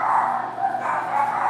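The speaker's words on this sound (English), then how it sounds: "I gotta see what's going on with my dogs." Dogs barking and yipping indoors, somewhat muffled and a little distant, a steady run of overlapping yaps and bow-wows with no talk over them.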